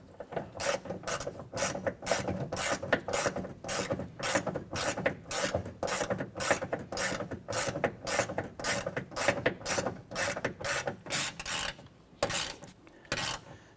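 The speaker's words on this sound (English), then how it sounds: "get this bolt installed here. And go ahead and snug those down" Ratchet clicking steadily as bolts on a Chevrolet S10 door latch assembly are snugged down, a fast run of sharp, close mechanical clicks with brief pauses, no talking.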